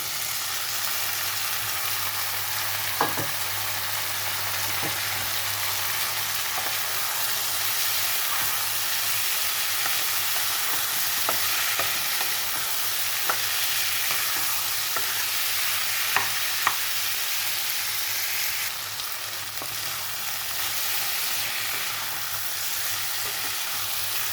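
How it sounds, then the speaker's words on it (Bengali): Potatoes fry in a pan with turmeric for an aloo curry served with dosa, a steady low sizzle running throughout with occasional soft clicks and scrapes of stirring, close and moderately quiet with no talking. "এখানে আমি দিয়ে দিচ্ছি আলু"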